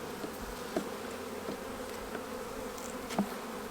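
Honey bees in an opened hive make a steady, close, moderately loud buzz, with a couple of soft knocks from handling the frames.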